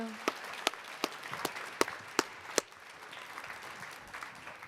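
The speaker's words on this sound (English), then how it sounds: "Let's give them all a round of applause." At a tech summit career showcase a small audience gives a round of applause for speakers and students: a handful of sharp, separate claps in quick succession, fairly faint, fading into quiet room noise.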